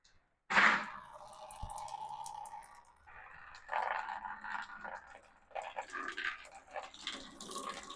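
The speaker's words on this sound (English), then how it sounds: "You loosen this, and it drains out of this fitting here. Hopefully into your bucket." Green fuel draining from a loosened fitting on a Ford 5.0 engine into a bucket: a sudden splash, then a thin steady trickle with intermittent gurgling and splattering, quiet and close.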